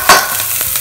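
Garlic sautéing in a pan with onion, a brief close sizzle and scrape as it is moved, one sharper burst at the start and softer stirs after, no voices.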